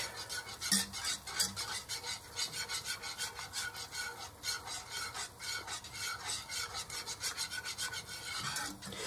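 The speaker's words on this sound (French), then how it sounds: "Et je mélange le tout pour qu'il épaississe un tout petit peu." A spoon stirs onion-studded chicken juice thickened with cornstarch in a pan, making a steady rhythmic scraping and rubbing against the pan, close and fairly quiet, with no voices.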